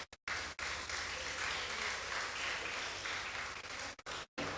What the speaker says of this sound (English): So give her a hearty round of applause.